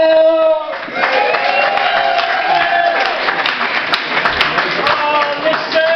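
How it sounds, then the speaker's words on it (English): A brewery comedy-gig audience claps and cheers continuously, a dense crowd wash with voices mixed in throughout. "Keep the clapping up, you!"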